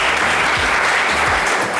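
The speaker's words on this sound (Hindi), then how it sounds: "तालियां" Dense, loud applause from an audience, steady throughout the brief moment.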